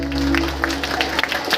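Audience applause at an Odia jatra opera performance, a crowd clapping loudly over a sustained tonal hum that fades, the claps growing sparser and more scattered toward the end.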